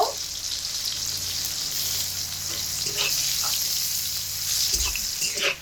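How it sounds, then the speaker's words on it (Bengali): Pieces of bitter gourd fry in hot oil, a dense steady sizzle up close, with occasional stirring scrapes and bubbling pops. "সবশেষে উচ্ছেগুলোকে তেলের মধ্যে দিয়ে খুব ভালোভাবে ভেজে নেব"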